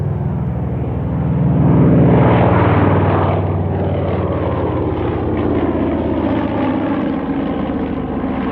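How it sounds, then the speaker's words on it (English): A Catalina flying boat makes a low fly past along a line of parked Spitfires at a Duxford airshow, its propeller engines droning loudly, rising to a peak as it passes, then fading into a lingering rumble. "As the Catalina makes its final fly past the line of assembled Spitfires"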